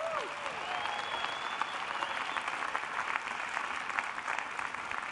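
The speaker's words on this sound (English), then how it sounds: "maybe we can give them a round of applause" Continuous applause from an audience at a digital industry ball, dense and even clapping throughout with no speech.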